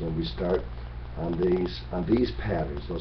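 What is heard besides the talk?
No distinct noise like a dog, phone or traffic.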